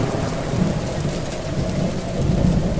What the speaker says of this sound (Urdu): ساتھ ہی موسلا دھار بارش بھی شروع ہو گئی